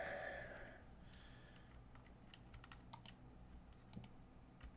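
Faint computer keyboard typing in the Tex Murphy: Overseer game, a few scattered soft key clicks after a brief breathy sniff, quiet and sparse with no talk.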